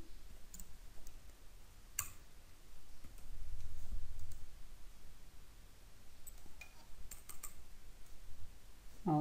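Computer keyboard typing a Jira search query, heard as scattered soft key clicks in short bursts against a quiet room hiss.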